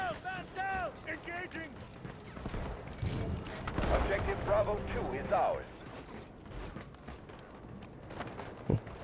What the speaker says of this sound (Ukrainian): Ззаді стріляють.